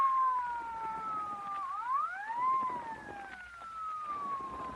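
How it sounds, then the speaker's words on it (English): A police car siren wails in a vintage radio crime drama, a clear wavering electronic tone rising and falling in pitch at moderate distance, heard alone without voices. "What chowderhead was stupid enough to use his siren?"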